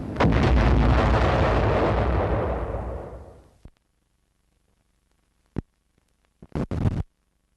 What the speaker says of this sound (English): it automatically explodes a projectile just before it reaches the target